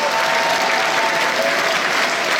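Sustained, dense applause from a theatre audience at a film premiere, loud and steady throughout with a broad wash of clapping and no break.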